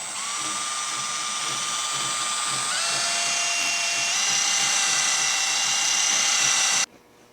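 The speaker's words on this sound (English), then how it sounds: "we're just gonna hone this and try to bring it into final size." Honing the bore of an arbor press during restoration gives a steady, high whine with bright tonal lines that step up partway through, continuous and close, then cuts off abruptly near the end.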